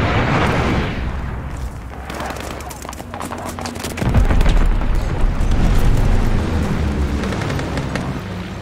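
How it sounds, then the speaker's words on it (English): Bombing run in the Call of Duty: Vanguard multiplayer game, heavy rumbling explosions and booms rolling continuously, with a stronger blast hitting midway and dense low-end thunder persisting to the end. "Allies called a bombing run."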